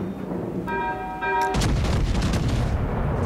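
Battleship Kaiser's main guns fire in World of Warships Legends, a loud booming salvo that hits suddenly and rolls on as sustained rumbling after a short tonal game sound.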